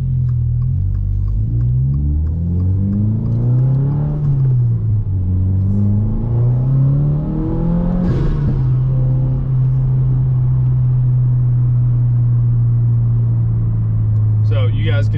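A car on E85 fuel with a loud modified intake pulls hard through first, second and third gear, its engine note rising and dropping with each shift in a continuous close, loud drone.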